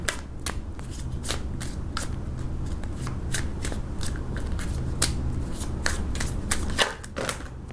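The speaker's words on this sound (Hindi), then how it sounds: "so many cards fell" A deck of playing cards being shuffled, with dense rapid riffling flutter and crisp card slaps falling out, steady and close throughout, over a low constant room hum.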